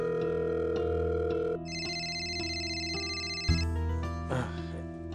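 A phone call being placed: a sustained electronic tone shifts into a repeating ringback tone pattern with steady pulses, clear and close, followed by a brief thump and faint rustling.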